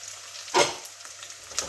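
Garlic hitting a hot pan on a gas stove, with a brief burst of sizzle and then a faint, steady frying hiss and a couple of small clicks, close and quiet.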